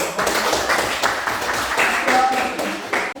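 Hand clapping from a classroom group of pupils at a school lesson, a steady patter of claps lasting a few seconds with some voices mixed in.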